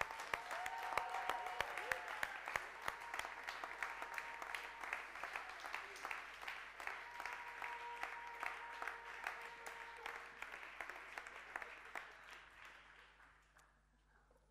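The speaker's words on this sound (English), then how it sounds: "Let's just applaud them, shall we?" A church congregation breaks into sustained applause, a dense wash of many hands clapping that gradually thins and fades out near the end.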